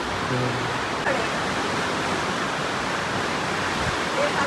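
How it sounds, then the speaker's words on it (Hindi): Water draining and flowing beside a room in the mountains, a loud, steady rushing wash close by with no breaks. "और ये पानी की निकासी इधर होती है।"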